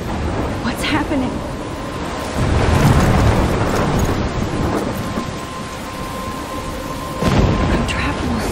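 In the Life is Strange video game, a thunderstorm pours steady heavy rain while rolling rumbles of thunder swell twice, loud and close, with a voice talking over it at one point.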